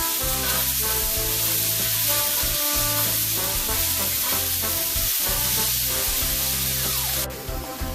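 Carrots, celery and turkey gizzards sizzle steadily in a soup pot, a loud, continuous frying hiss with brief stirring clatters, no talking.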